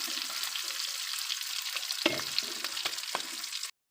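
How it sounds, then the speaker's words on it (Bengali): Eggs fry in a little oil with a close, steady hiss and crackle. Occasional sharp scrapes and knocks come from a utensil against the pan, and the sizzle cuts off abruptly at the end. "একটু তেল দিয়ে এটা ভেজে নিচ্ছে হালকা"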